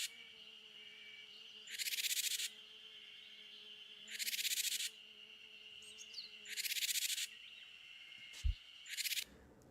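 Recorded Japanese tit jar calls play from a loudspeaker outdoors, four harsh buzzy bursts about two seconds apart, moderately faint over a quiet background with a single sharp knock near the end.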